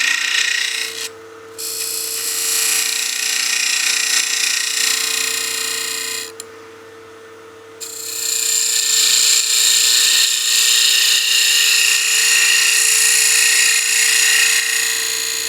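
A box scraper cuts into spinning wood on a lathe, a loud, steady rasping scrape with a constant motor hum beneath, broken by two brief lifts of the tool before the cut resumes.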